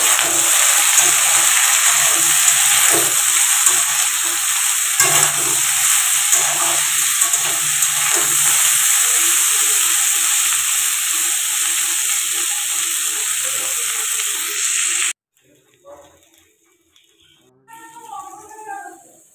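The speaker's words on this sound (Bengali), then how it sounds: "দেখো বিট আলু ভাজা হচ্ছে।" Beetroot and potato fry in a pan with a loud, steady sizzle and hiss for about fifteen seconds, broken by occasional stirring scrapes. The sizzle then cuts off, and a few soft background sounds follow.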